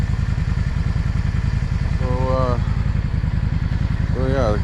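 A warmed-up Yamaha V-Star 650 motorcycle idles steadily close by with an even, throbbing low pulse throughout, while a voice briefly talks over it twice.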